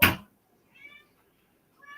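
A cat meows indoors, two short faint calls separated by silence, after a brief clunk like a cupboard or door closing.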